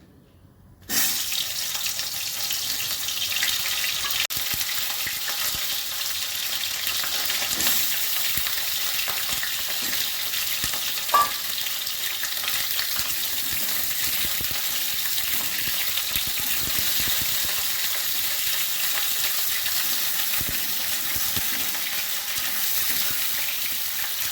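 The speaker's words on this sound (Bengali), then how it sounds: "প্রথমেই আমি কাঁকরোলগুলো ভেজে নিচ্ছি" Teasel gourd (kakrol) frying in mustard oil in a home kitchen, a steady, loud broadband sizzle that holds throughout after a brief quiet start, with one small clink partway.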